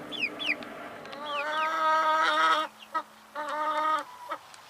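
Young chickens at an allotment cluck and squawk in agitated bursts close by, with rising calls and sustained harsh cries that stop and start in short stretches.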